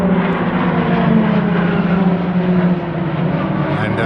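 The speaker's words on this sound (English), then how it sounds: "RAF roulettes here are doing practice displays this morning." RAF Roulettes aerobatic propeller aircraft fly a morning practice display at an air show, their engines droning loud and steady with a sustained low hum throughout, and faint talk buried beneath.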